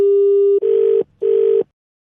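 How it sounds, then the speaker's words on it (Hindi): A telephone line tone heard while a number is being dialed: a loud steady tone, then two evenly spaced pulsed beeps, with no voices. "नंबर मिला रहा है भाई बार बार"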